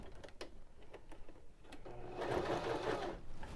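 A Baby Lock Zest sewing machine bastes apron straps, starting with a few light clicks and taps before the motor whirs into a steady, close running stitch that fills the last second and a half.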